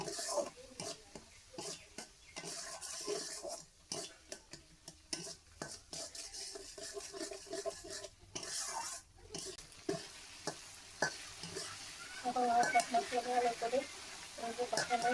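Spices with cumin powder being stirred and sautéed in a pan for a Bengali mustard-poppy parshe fish dish: soft intermittent sizzling with frequent scraping spatula strokes against the pan, fairly quiet and close.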